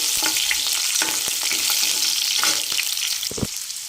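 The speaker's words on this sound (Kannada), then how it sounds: "ಬೆಳ್ಳುಳ್ಳಿ ಮತ್ತು ಮೆಣಸಿನ್ಕಾಯಿನ ಹಾಕೋಣ" Smashed garlic and chilies drop into hot oil with mustard seeds for puliyogare, a bright crackling sizzle with a few sharp spatula clicks and stirring strokes, loud and close with no speech.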